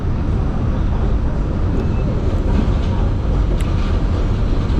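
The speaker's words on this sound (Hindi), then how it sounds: "ऊपर से ट्रेन चल रही है। यहाँ बड़ा शोर कर रही है ये ट्रेन।" An elevated train rumbles overhead on a Brooklyn street, a loud continuous roar with steady low-end weight filling the whole stretch, nearby traffic blended in.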